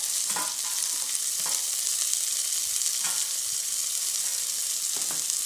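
Ingredients frying in a pan for a Kerala fish curry dish, being stirred: a loud, continuous hissing sizzle with a few soft scrapes of the spoon at irregular intervals, close up and without speech.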